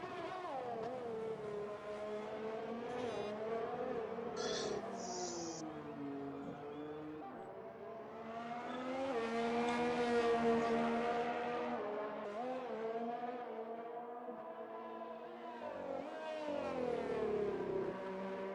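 Formula 1 car engine in a racing video game on the Hungary circuit, running on soft tyres through the final sector, screaming steadily with rising and falling pitch through gear changes and corners, loud and continuous.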